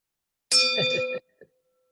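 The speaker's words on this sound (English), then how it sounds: "I have a different type of bell because our big bell is in storage" A single bright ding from a small stand-in bell at a Rotary club meeting in a hotel rings out and cuts off after under a second, followed by a faint, short tap.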